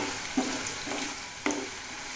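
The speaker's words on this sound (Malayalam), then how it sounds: "തേങ്ങാക്കൊത്ത് വെക്കുക. ഒരു ലൈറ്റ് ബ്രൗൺ കളറാകും വരെ അതൊന്ന് വറുക്കുന്നു." Coconut pieces frying in a pan for a Kerala beetroot stir-fry, a soft continuous sizzle with a few sharper stirring scrapes, fairly close and alone.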